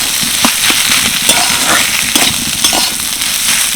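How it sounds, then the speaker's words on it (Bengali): Semolina filling sizzles and crackles in a hot pan while being stirred, a dense steady frying hiss broken by small scraping pops. "সব কিছু ভালো করে একটু নাড়াচাড়া করে নেব"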